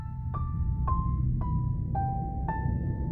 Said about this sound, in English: One is this little piano motif